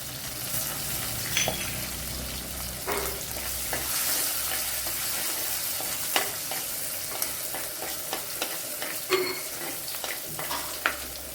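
Seven or eight garlic cloves frying in oil in a pan previously used to roast coconut, giving a steady close sizzle dotted with sharp pops and scrapes of stirring, no voices.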